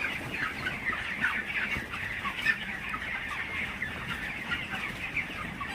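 Broiler chickens in a poultry shed on a morning, a dense steady chorus of clucking and murmuring from many birds, continuous and fairly close with no talk.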